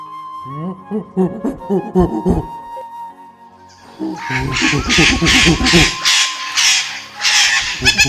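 Cartoon birds screech and squawk in loud, chaotic bursts, first as a few sharp calls and then as a dense overlapping burst of cries, with voiced, tonal calls running through them.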